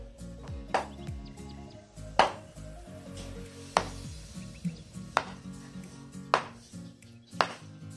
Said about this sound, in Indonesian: Ini kembali kita cincang, kita buat terus lipatnya kembali seperti ini